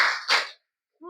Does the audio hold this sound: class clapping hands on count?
yes